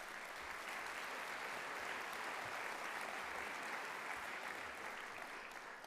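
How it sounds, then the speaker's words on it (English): A large convocation crowd at Cal Poly in 2019 gives a round of applause, a continuous, even roar of clapping heard from a distance and sustained at a steady level with no speech. "I think that deserves a big round of applause"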